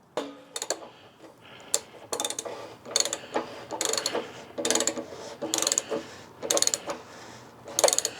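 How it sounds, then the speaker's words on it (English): A hand ratchet clicks in short bursts while tightening a water heater element, its rapid pawl ticks arriving in separate close strokes with brief pauses between them. "I'm going to get it hand tight with this ratchet"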